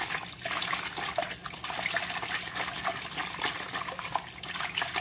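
Hot soapy water sloshes steadily as a knitted bag is gently agitated for felting, a continuous close watery churn with small splashes and drips throughout, no voices.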